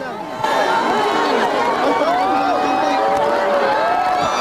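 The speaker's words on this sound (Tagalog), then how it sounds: "Nang dumaan ang papal motorcade, halos tumigil ang mundo sa hiyawan ng mga tao." A large crowd of devotees in Leyte cheering and shouting as the papal motorcade passes, a loud, continuous roar of voices with rising whoops and calls throughout.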